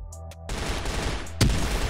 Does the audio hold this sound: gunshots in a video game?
yes